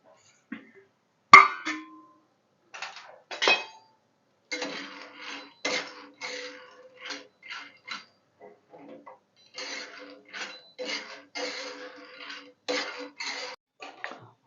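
Peanuts roasting in a kadai on a gas stove for sesame laddoos, stirred with a utensil that scrapes and clinks against the pan in irregular bursts, close and moderately loud, with brief pauses between strokes.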